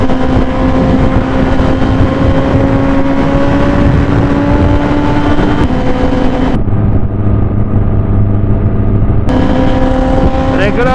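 A superbike with an Arrow exhaust cruises at speed on a highway, giving a loud, continuous engine drone with gear-change shifts in pitch, heavily masked by rushing wind noise throughout.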